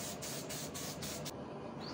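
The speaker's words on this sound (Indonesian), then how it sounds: "Semprot 2 lapis kayak primer." A spray gun applies silver metallic paint to motorcycle wheel rims in a steady hiss with several short rhythmic pulses, then the spraying stops.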